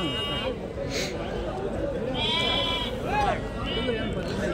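Sheep bleat repeatedly at a weekly sheep market in Cheluru, the calls overlapping near and far while people talk throughout.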